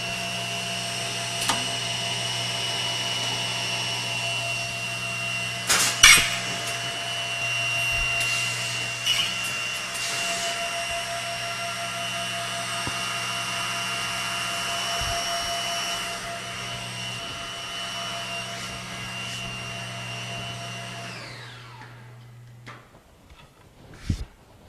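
Laguna Tools Bandit 2 edgebander with its feeder and trimmers running while applying plastic laminate edging: a steady motorized whine and hum holds for about twenty seconds with a few sharp clicks, then winds down to quiet.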